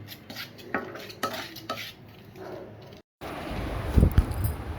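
A spoon stirring a thick hair dye paste in a bowl for white hair, heard as close, repeated scraping and clinking strokes in a steady rhythm, followed by a brief cut and rougher handling noise.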